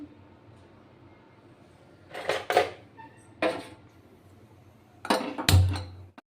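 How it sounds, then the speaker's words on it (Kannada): A frying pan is set down on a stove to heat oil for tempering brinjal palya, giving several separate metallic clanks and clinks with quiet gaps between them, ending in a heavier clatter. "ಈಗ ಒಗ್ಗರಣೆಗೆ ಒಂದು ಬಾಣಲಿನ ಇಟ್ಟಿದ್ದೀನಿ"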